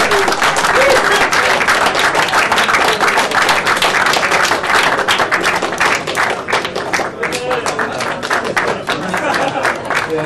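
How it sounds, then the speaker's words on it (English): An audience at a poker tournament final ceremony gives the winner a sustained round of applause, dense loud clapping filling the whole stretch, with some crowd noise mixed in. "let's have a big round of applause for Ketul and Nathwani"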